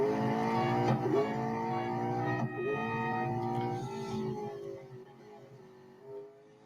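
Engine of a 2022 Chevrolet C8 Z06 racing in the video game Real Racing 3, a loud sustained howl rising and falling through gear changes before fading somewhat toward the end.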